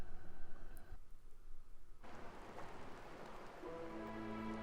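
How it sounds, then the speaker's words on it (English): Steady rain hisses and patters through late-night Mafia Town in the video game A Hat in Time, a dense wash of drops that briefly thins before returning, with faint tonal music creeping in near the end. "So yes, it is raining."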